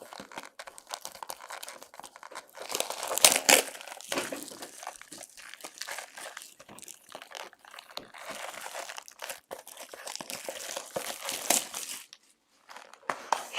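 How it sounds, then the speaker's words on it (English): A 2021 Topps Series 1 baseball card pack wrapper crinkles and tears as it is pulled open with some struggle. The crackling plastic comes in bursts, close and fairly loud, with brief pauses between them. "Struggling with that wrapper there."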